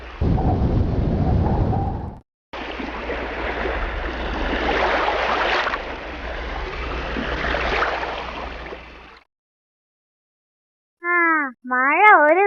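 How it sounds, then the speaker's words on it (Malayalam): Stormy wind in a children's animated cartoon, a loud broadband rushing roar swelling and easing for about nine seconds with a brief gap near the start, then silence and a few short tonal chirps near the end. "എന്തൊരു കാറ്റ്!"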